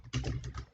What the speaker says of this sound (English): what we could do is type in your text